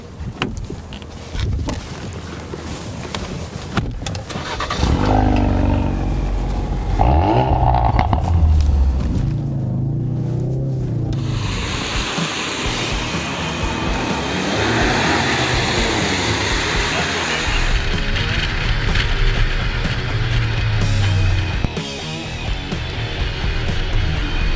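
A 350 hp 2017 Ford Focus RS drives hard on a race circuit, a loud continuous roar of engine and road noise mixed with wind rush, its pitch rising and falling with changes in speed.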